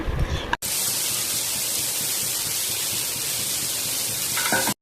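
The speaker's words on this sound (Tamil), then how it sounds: "இப்போ அந்த ப்ராக்கோலி எடுத்து நம்ம பேனில் ஆயில் சேர்த்துட்டு நம்ம வந்து ஃப்ரை பண்ண போகிறோம்" Broccoli fries in oil in a pan for tandoori broccoli, a loud continuous hissing sizzle filling nearly the whole stretch between brief silent gaps.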